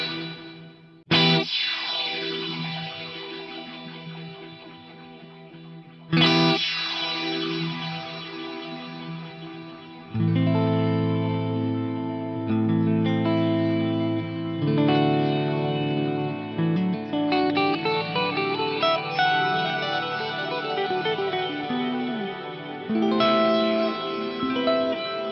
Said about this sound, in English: have a listen to the difference between S time at minimum and max